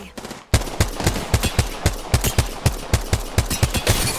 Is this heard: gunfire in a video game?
yes